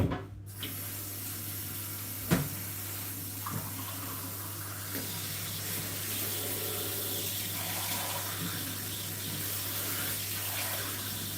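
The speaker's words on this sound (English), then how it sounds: "I'm going to rinse all the starch off." Tap water runs steadily into a sink to rinse the starch off raw potatoes, a continuous close splashing stream that lasts the whole stretch with a low background hum and no talk.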